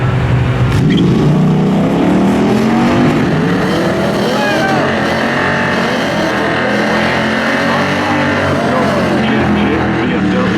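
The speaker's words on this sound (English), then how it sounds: "Mario has had better reaction times than his opponents in every round so far, and he does it again, taking out the BMW" A Jeep and a BMW drag racing at Raceway Park in Englishtown, New Jersey, engines roaring loudly and continuously down the strip, with an announcer's voice over the noise.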